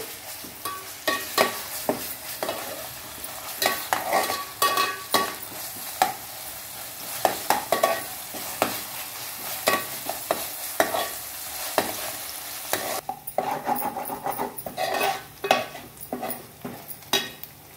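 Onions and masala frying in a pan for a Guntur-style prawn curry, with repeated scraping stirs and clinks of a spoon over a soft continuous sizzle, close and busy throughout.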